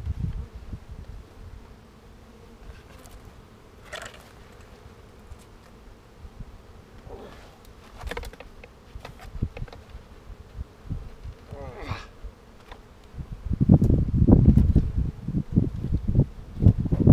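Honeybees from an agitated hive during an inspection: a faint, wavering buzz drifting near and far, individual bees passing close, then louder rustling and handling noise toward the end.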